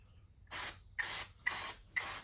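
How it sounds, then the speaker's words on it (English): Maintenance spray applied to hedge trimmer blades in four short hissing aerosol bursts, each about a third of a second, evenly spaced and close, with quiet pauses between. "you spray some on it."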